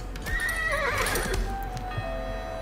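A horse in the video game Age of Empires IV neighs loudly in a long, wavering whinny, alongside a few hoof clops, then fades into quieter game ambience.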